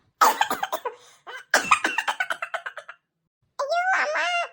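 A cartoon character gives a string of exaggerated, rapid coughs, first in two bursts, then follows with a moaning, wailing vocal groan; the voice is close and loud and performs the coughs theatrically.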